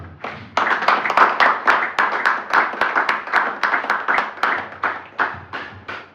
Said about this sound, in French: Est-ce qu'on peut acclamer pour cela?